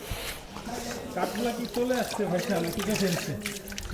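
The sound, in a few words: water dripping down from above like rain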